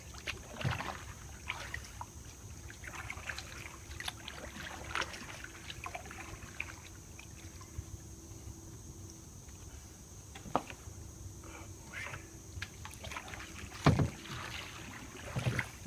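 Canoe paddling along Taylor Creek in Orange County, Florida: soft, irregular paddle strokes and knocks against the hull, light water trickle and faint wind, recorded close, no talking.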